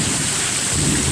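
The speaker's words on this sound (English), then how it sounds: "Here's the thunder." Thunder rumbles through a severe thunderstorm, a steady dense roar with rain hissing over it, close and loud for its brief length, with no voices.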